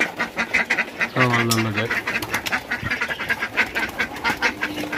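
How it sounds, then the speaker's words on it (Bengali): Ducks quack in a busy, steady chatter at a feeding spot, close and continuous, while a person talks over them. "এখানে আমরা হাঁসগুলো খাওয়া দিয়ে দিই"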